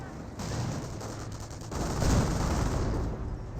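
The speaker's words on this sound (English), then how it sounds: "Was that frag grenades?" Frag grenade explosions in Company of Heroes 1 sound as two muffled blasts, one early and a stronger one about halfway, amid steady distant battle noise and gunfire.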